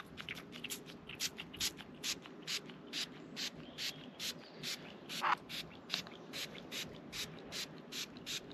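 Interior ceramic coating is misted onto a car mat in quick, evenly spaced trigger sprays, close and crisp, repeating in a steady rhythm throughout.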